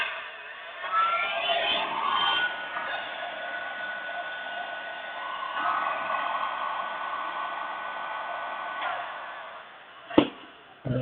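A heat gun on its low setting blows with a continuous loud hiss that swells and eases a little, ending with a short clatter and a pause.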